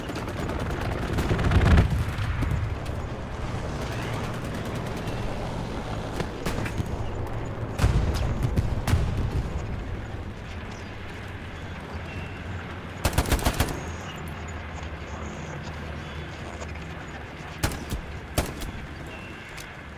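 Battlefield gunfire in Hell Let Loose with an STG44: bursts of rifle and automatic fire, some close and punchy, others distant, scattered across a noisy wartime backdrop with sharp clustered shots near the end.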